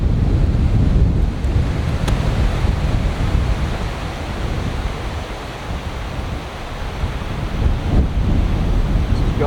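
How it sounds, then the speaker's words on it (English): Strong wind on a golf course at Lake Karrinyup roars steadily against the microphone in a loud, constant buffeting rush that swells and eases slightly, with no clear talk. "when the wind blows this hard, you can change clubs about 5 times before you actually even hit the shot"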